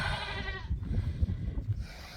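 A strong half Boer goat bleats in a barn around newborn kids, a wavering nasal call close by, followed by softer shuffling and low thumps.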